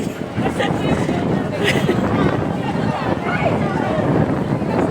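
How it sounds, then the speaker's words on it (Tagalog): Steady gusting seaside wind buffets the microphone in a constant low roar, with muffled voices underneath. "Mahangin kasi sa tabing dagat pa"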